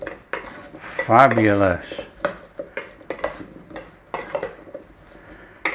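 Brussels sprouts with Parmesan cheese and garlic are stirred in a pan, giving a run of sharp metallic clinks and scrapes of a utensil against the pan, with a brief spoken remark.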